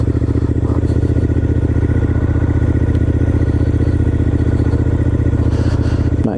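Triumph Scrambler 900 motorcycle ridden gently past houses, its exhaust a steady low rumble held at an even, quiet throttle from start to finish, with a brief change near the end.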